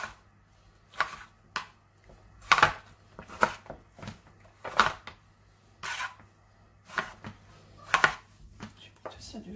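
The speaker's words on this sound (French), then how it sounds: "On coupe la tomate." An unpeeled tomato cut with a knife on a board, about a dozen irregular sharp chops in short bursts, close, with a voice speaking between the cuts.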